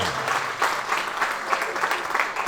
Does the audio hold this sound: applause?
yes